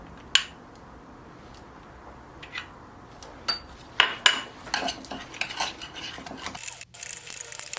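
A spoon mixes natural yogurt and beetroot puree into a marinade in a bowl, with scattered light clinks and scrapes that grow busier toward the end, close and fairly quiet.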